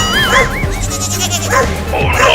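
Cartoon goat kid bleating with wavering cries while a dog barks and snarls at it, both close and loud, the bleats coming in repeated quavering bursts over a busy animated background.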